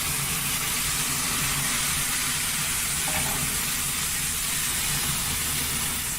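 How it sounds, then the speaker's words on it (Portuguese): Cashew juice hits a hot pan to deglaze pasta, setting off a loud, steady sizzle and steamy hiss that holds evenly throughout. "E agora eu vou acrescentar o suco do caju para começar a cozinhar esse macarrão."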